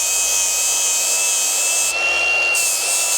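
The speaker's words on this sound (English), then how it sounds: "All right, so let's grind some more out of that." A grinder works metal on a fabricated turbo wastegate part for a Miata exhaust manifold, giving a continuous loud high-pitched whine that dips briefly midway, close up with no talking.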